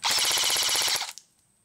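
An ICS Galil ICAR MRS airsoft gun fires a rapid full-auto burst on a 9.6V battery, about a second of evenly spaced loud clacks, then stops abruptly with a brief tail.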